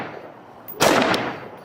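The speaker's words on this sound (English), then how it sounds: "shots fired." Gunfire erupts during a police chase at a house, a sharp loud burst of shots after a quiet stretch, heard at a moderate distance.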